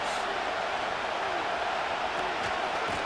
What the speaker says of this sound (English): This crowd, they're trying to force a false start.